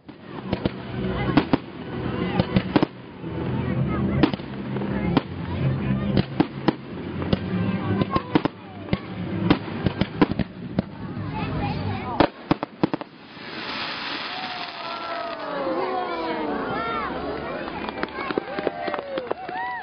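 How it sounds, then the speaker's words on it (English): Rapid crackling bursts and repeated pops of fireworks go off at a city night event, loud and dense, then sparse whistling rockets and bangs follow while voices are heard. "The night was topped off with a fireworks display."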